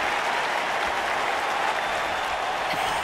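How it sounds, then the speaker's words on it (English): Loud, steady crowd cheering and applause from a live wrestling arena audience in the WWE 2K24 video game, a dense continuous roar with no break. "And a live crowd doesn't get any hotter than this. On the edge of their seats and then some."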